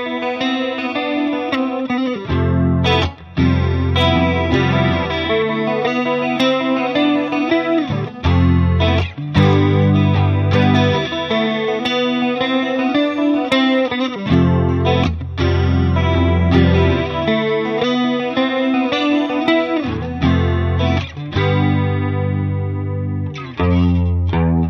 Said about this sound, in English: the CE-1 was the first chorus pedal put into production